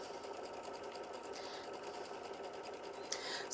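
A sewing machine stitching a quilted butterfly block in a continuous, even, rapid whir, steady and close, with a small mechanical clunk near the end.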